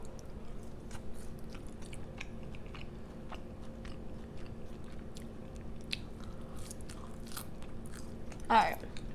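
Someone close by quietly munches Popeyes fries dipped in sauce, producing soft, irregular crunches and chewing over a low background hum.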